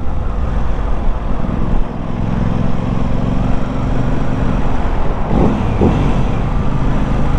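An Aprilia RS 660 sport motorcycle engine revs loud and close, a dense steady roar with slight rises in pitch, and no voices.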